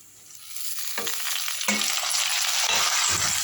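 Semiya upma being stirred in a pan, a steady broadband sizzle that builds over the first second, with a few scraping strokes of the spoon cutting through. It is close and moderately loud, and no one speaks.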